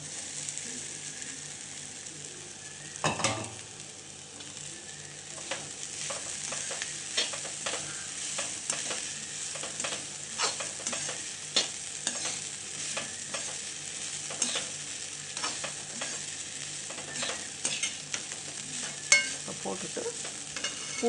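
Soaked flattened rice (aval) is stir-fried with onion and ginger in a pan, giving a soft steady sizzle broken by repeated scraping clicks of a spatula, with no talking.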